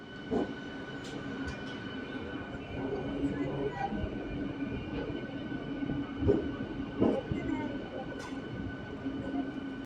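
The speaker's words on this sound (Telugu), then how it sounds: "మన ట్రైన్ కాజీపేట జంక్షన్కి చేరుకుంది ప్లాట్ఫామ్ నెంబర్ మూడులోకి" A MEMU commuter train pulls into platform three at Kazipet Junction, a low rolling rumble with scattered clanks and brief squeals over a steady hum, with voices faintly present.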